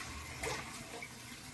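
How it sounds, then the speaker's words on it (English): Cold water running from a bathroom tap for face washing, a steady quiet hiss of flow with a faint splash, heard alone. "gonna hit the face with some cold water."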